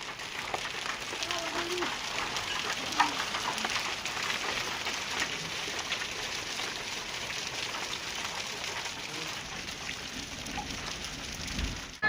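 Heavy rain with hailstones falling: a dense, steady hiss and patter that runs unbroken and fairly loud from start to finish, with a sharper thud at the very end.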